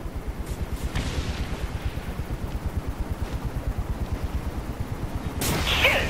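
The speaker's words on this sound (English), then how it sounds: "Are those rockets? Get them off me!" Rockets fired in Saints Row: The Third thump in a rapid, steady pulsing barrage under a low engine rumble, ending with a sharper bright burst near the close, with no talking.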